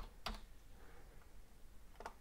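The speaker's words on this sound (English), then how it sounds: "So if I start typing in display," A couple of faint, isolated keystrokes on a computer keyboard hooked to a Raspberry Pi 4, one near the start and one near the end, separated by a quiet stretch.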